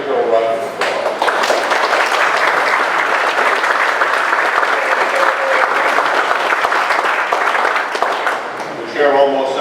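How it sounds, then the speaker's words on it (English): Sustained applause from a town meeting audience fills the room, dense and steady for several seconds with a few voices mixed in before it tapers at the end. "Please give her a round of applause."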